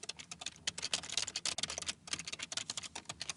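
Rapid typing on a computer keyboard, a steady near patter of key clicks with brief pauses.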